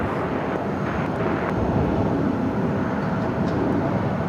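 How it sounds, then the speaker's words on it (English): A WestJet Boeing 737-800 jet airliner taxis at Phoenix airport, its engines giving a steady, moderately loud roar with a low rumble that holds constant through the whole stretch. "Just at this WestJet flight 1532 coming from Edmonton, Canada, 737-800."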